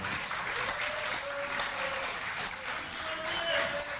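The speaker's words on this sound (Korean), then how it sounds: "다시 한번 큰 박수 부탁드리겠습니다" Steady applause fills a lecture hall as an audience welcomes a former lawmaker to give a talk, sustained clapping from a large crowd, heard at a moderate distance.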